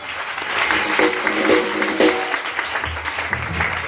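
Church congregation applauding together in a steady wash of clapping, with tonal voices or music faintly threaded through and a few louder swells throughout.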